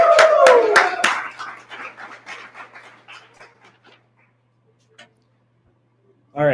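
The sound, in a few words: applause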